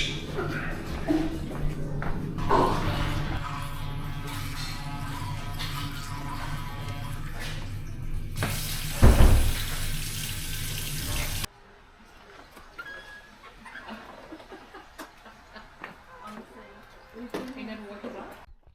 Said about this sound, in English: So the first job of the day is a shower.